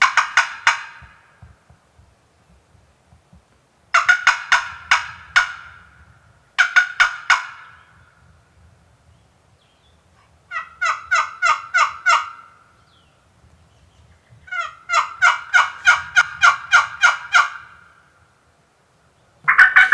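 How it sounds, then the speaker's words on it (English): Wild turkeys gobble from below a ridge point during a New York spring hunt, with repeated rattling gobble bursts coming every few seconds across the stretch, clear and moderately distant, with no talking. "a bunch of birds gobbling from down below their location"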